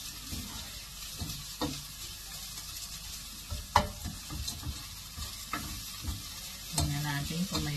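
Garlic sautéing in a pan for sotanghon, a faint steady sizzle broken by scattered taps and scrapes of a spatula, with a louder clatter of cookware toward the end.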